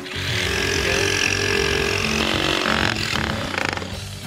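A power saw cuts through plywood, making a loud, continuous buzzing whine with a raspy woody edge that holds steady for several seconds, then briefly falters near the end.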